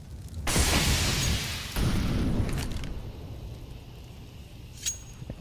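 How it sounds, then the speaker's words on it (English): Grenade in a Counter-Strike match lands and detonates: a loud, close boom with a burst of noise, a second blast-like swell, then fading debris rattle and a small metallic clink near the end. "That is a thick grenade that lands right at Simple's feet"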